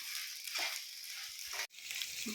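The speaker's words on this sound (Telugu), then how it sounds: "ఇప్పుడు ఈ పీసెస్ వేసేస్తున్నాను. ఇది కొంచెం నూనెలో అలా మగ్గాలి" Quail meat pieces frying in hot oil give off a steady, close, loud hiss and crackle, with a brief sharp pop and momentary dip partway through, no talking.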